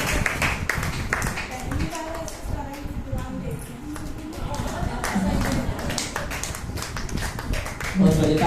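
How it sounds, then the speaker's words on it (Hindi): An audience claps to welcome guests at the closing ceremony of a women's spiritual education camp in Ponnurmalai, with irregular bursts of applause mixed with voices in a hall. "जोरदार तालियों से स्वागत करें।"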